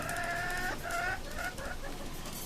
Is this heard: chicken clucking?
yes